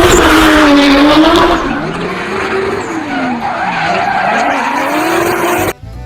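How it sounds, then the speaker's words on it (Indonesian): Tires of a sports car squeal loudly in a long continuous skid, the pitch wavering up and down before cutting off abruptly near the end. "yang ini ada mobil sport ya."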